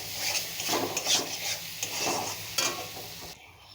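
Shrimp and yardlong bean paste fries in a pan, the spoon scraping and stirring in uneven strokes over a soft sizzle, close and fairly loud, ending abruptly with no voices.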